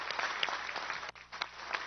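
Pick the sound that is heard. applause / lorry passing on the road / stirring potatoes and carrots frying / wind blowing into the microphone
applause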